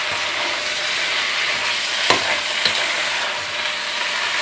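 Onions slowly fry and brown in a pan for French onion soup, giving a loud, even sizzle with a couple of brief utensil ticks and no voices.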